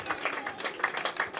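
An audience claps for an Olympic volleyball champion at a sports festival team presentation, a brief burst of dense, steady applause from a crowd.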